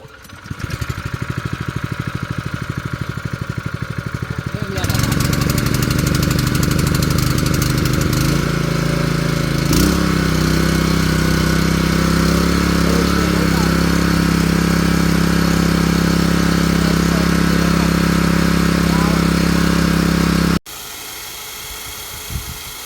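A small engine runs steadily, then revs up and holds at a higher pitch before cutting out abruptly, leaving a quieter idle.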